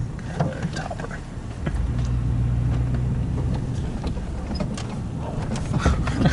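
A Chevy truck drives along a rough, off-road stretch, its engine a steady low hum with scattered rattles and bumps, and faint voices in the cab.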